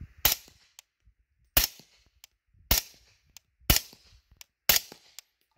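A suppressed 300 Blackout AR rifle fires subsonic 220-grain rounds: five sharp, muffled reports spaced about a second apart, each ending in a short decay.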